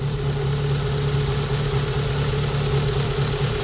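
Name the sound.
Rover 25 GTI engine idling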